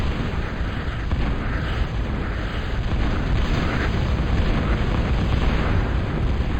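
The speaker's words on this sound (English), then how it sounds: "Trying to do a little more bombing to protect myself." Bombing-run explosions in a real-time strategy video game, a continuous loud roar of overlapping blasts and rumbling booms with no clear gaps.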